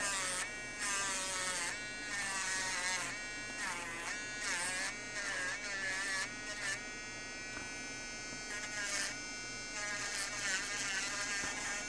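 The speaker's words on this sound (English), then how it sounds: "So I'm just trying to grind away this area and see if anything happens." A small handheld grinding pen buzzes as it grinds down an area of a cracked iPhone 12 motherboard, making a steady high-pitched whine that wavers in pitch as pressure changes, close and continuous throughout.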